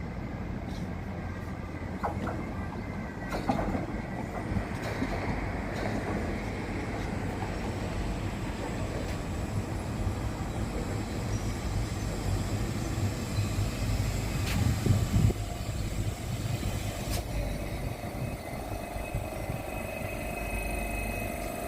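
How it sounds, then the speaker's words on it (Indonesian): An Amsterdam metro train pulls into the station and runs on, giving a continuous low rumble with faint metallic squeaks and clicks and a louder surge midway, heard without any talking. "Nah, itu dia keretanya sudah datang."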